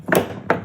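A key turning in the lock of a Yakima roof box to relock it, two sharp, close clicks about half a second apart, fairly loud and with no talk.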